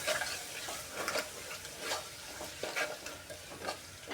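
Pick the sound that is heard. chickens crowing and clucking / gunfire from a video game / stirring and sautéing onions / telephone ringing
stirring and sautéing onions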